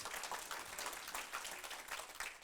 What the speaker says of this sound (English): let's please give her another applause